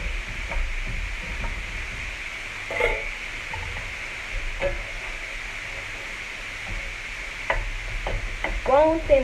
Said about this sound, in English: Then I'm going to stir my spaghetti.